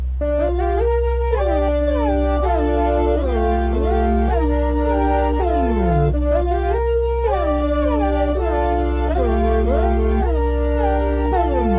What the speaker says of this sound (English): this is the preset called Circulating, and this is from the AYN Volume 3 bank